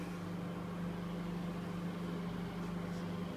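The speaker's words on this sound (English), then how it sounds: "aluminium foil into the microwave." Microwave oven running with aluminium foil inside, giving a steady low electrical hum and drone, faint and continuous with no clear crackle or sparking.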